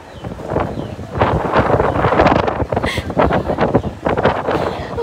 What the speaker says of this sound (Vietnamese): Gió nó thổi mạnh lắm.